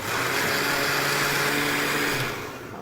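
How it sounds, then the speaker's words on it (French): A blender whirs steadily while mixing coconut cake batter made with milk and grated coconut. The loud, continuous motor drone holds for over two seconds, then winds down. "on va mélanger le tout pour que le mélange soit bien homogène"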